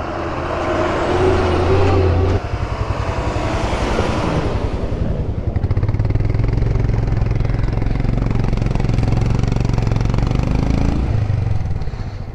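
Lorries and army vehicles grind past on a narrow mountain road between Lato and Jispa in Ladakh, a loud, close, continuous heavy-engine rumble that swells and shifts as each vehicle rolls by.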